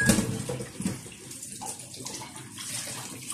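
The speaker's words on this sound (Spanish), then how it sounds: "Vamos a echarles ahí el agua fría" Cold tap water runs steadily into a pot of cooked eggs in a kitchen to cool them, a continuous close splashing hiss with no talk.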